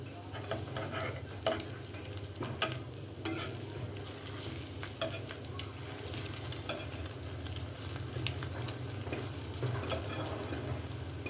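Slices of bread dipped in egg fry in ghee while a spatula turns them over one at a time, giving a soft, continuous sizzle broken by light scraping and tapping sounds.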